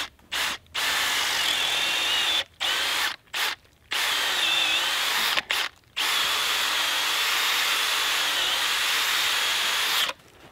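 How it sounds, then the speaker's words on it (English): A power drill bores a hole into a maple tree for sap, whining loudly in several long bursts separated by short pauses, close to the microphone. "I'm gonna drill my hole. Drill my hole in the tree on an upward angle so my sap comes out."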